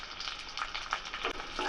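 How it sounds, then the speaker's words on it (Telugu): Cumin, mustard seeds, fenugreek, garlic, chopped onions and curry leaves frying in ghee for a tempering, a soft continuous sizzle with faint crackles and stirring scrapes, fairly quiet. "ఈ నేతిలో వీటన్నిటిని దోరగా వేయించుకోవాలి."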